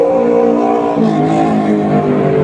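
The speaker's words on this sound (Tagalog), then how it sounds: "ang ingay ng motor" A motorcycle engine drones loudly and steadily close by, its pitch wavering slightly as it revs.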